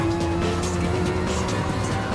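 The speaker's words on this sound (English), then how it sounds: "This is the Porsche chasing me." Porsche race car in a Nürburgring racing video game, its engine droning steadily and loudly at a constant high pitch throughout, with no pauses and no talk.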